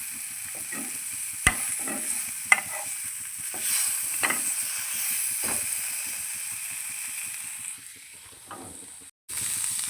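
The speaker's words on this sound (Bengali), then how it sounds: "মাছটা একটু ভাজা হয়ে গেছে, তো এখন একটু রসুন পেঁয়াজগুলো একটু নেড়ে নিই" Dried fish fries in a pan for a mashed dish, with a steady sizzle broken by repeated scraping stirs and a few sharp utensil clinks, close by and with no voices.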